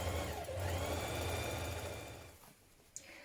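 A domestic sewing machine runs steadily while stitching the underarm seam of a summer dress, a continuous close mechanical whirr that slows and stops after about two and a half seconds, followed by a small click.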